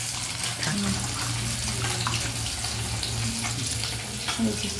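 Water pours steadily into a cauliflower and potato curry cooking in a pan, a continuous splashing wash with faint sizzling beneath it, close and even throughout with no talk.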